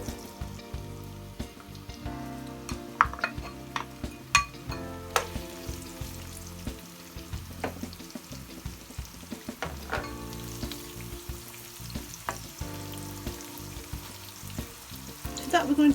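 Onions sizzling in hot oil with bay leaves and coriander seeds, a close, crackling fry broken by intermittent stirring scrapes and utensil knocks against the pan, with no talking.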